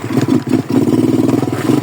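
A 125cc pit bike engine running close up, loud rapid throbbing pulses with a clattery mechanical rattle, steady and uninterrupted.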